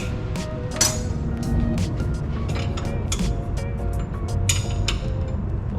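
Metal wrenches and sockets clinking in a series of sharp, irregular taps while working on a Nissan S13, heard over a steady background hum.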